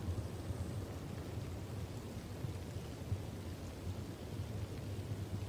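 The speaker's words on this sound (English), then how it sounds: "You're afraid of thunder? Thunder and lightning, the very things you have to encounter throughout nature." Steady rain with a low, rolling thunder rumble from a thunderstorm, faint and distant, continuing evenly as a quiet ambient backdrop with no talking.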